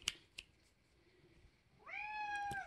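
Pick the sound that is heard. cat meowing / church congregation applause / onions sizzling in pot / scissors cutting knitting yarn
cat meowing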